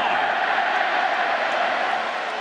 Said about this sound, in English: the Red Sox fans have a chance to cheer